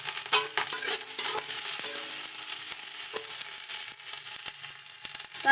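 Onion and green chillies sizzle in a pan with steady crackling and intermittent stirring scrapes, close and moderately loud, with no talking.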